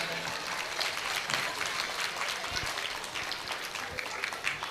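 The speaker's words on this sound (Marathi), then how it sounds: "जोरदार टाळ्या वाजवा एकदा." Applause from an audience at a school annual function and children's gathering, a steady dense wash of clapping throughout, fairly distant and moderately loud with no talk over it.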